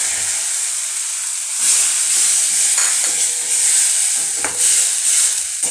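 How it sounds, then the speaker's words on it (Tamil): A paste of ground tomato and dried red chilli fries in a pan with a loud continuous hiss and sizzle, swelling in intensity now and then, with no voices. "இது நல்லா அந்த பச்சை வாசம் போக வரைக்கும் வதக்கிக்கலாம்"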